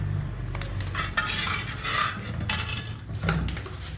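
A spoon stirs a cornflour cream mixture in a bowl, producing soft repeated scraping and rubbing strokes with occasional light clinks of utensil against the dish, close and fairly quiet.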